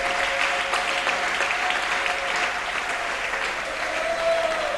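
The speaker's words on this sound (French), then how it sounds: "Est-ce que tu peux acclamer pour la gloire de Dieu?" A church congregation applauds and cheers for the glory of God at a French-language edification service, a thick, continuous round of clapping mixed with crowd voices that stays loud and even throughout.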